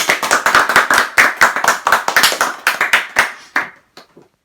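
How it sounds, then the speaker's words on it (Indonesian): A classroom of students claps for a classmate: a burst of close, brisk, uneven hand claps that thins out and trails off into a few scattered final claps. "Beri aplaus dulu untuk temannya."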